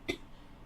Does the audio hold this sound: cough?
yes